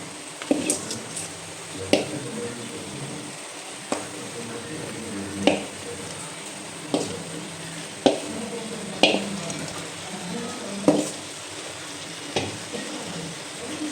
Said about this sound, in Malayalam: ഇനി നമുക്കിതൊന്ന് യോജിപ്പിച്ച് നല്ലതായിട്ട് ഇളക്കി നല്ലതായിട്ടൊന്ന് കൊടുക്കാം